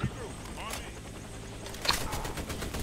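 Gunfire in a co-op video game, rapid automatic bursts and a sharp shot near the middle, played close, with another burst of firing toward the end.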